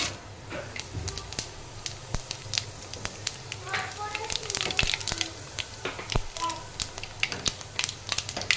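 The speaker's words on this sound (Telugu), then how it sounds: "ఆయిల్ వేడెక్కిందండి. ఇప్పుడు పోపు గింజలు వేస్తున్నాను." Tempering seeds dropped into hot oil for a gongura dish crackle and sizzle in dense, irregular pops throughout, fairly close, with a voice faintly present partway through.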